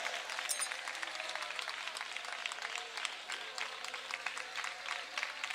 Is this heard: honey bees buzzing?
no